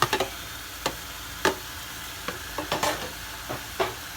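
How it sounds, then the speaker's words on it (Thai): Freshly grated coconut meat poured into a hot pot sizzles softly while a spoon scrapes and stirs in a run of sharp, irregular clicks and scrapes, close up and alone. "เราก็จะเทใส่หม้อเลยค่ะ หม้อร้อนๆเลยค่ะ"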